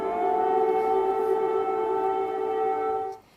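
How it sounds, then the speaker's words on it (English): An air raid siren wails across Kyiv during a Russian airstrike, a loud, steady sustained tone holding nearly level before cutting off near the end. "Sirens rang out across Kyiv during the third major airstrike on Ukraine in just 4 days."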